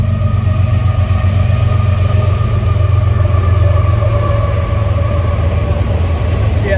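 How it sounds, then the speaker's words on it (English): A heavy CSX freight train with many coil cars rumbles past close by, a steady low drone with tonal hum from the engines continuing throughout. "Train coming by, apropos."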